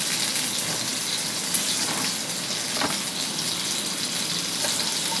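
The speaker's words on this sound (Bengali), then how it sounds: "এইভাবে প্রত্যেকটা ঝিঙে ভেজে নিতে হবে।" Ridge gourd pieces fry in hot oil, giving a loud, steady crackling sizzle close by, with a few sharper pops over the dense hiss.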